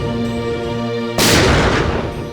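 A single loud gunshot rings out from a pistol in a crime drama scene, a sharp, sudden blast that follows a sustained tonal hum and trails off into a lingering, noisy decay.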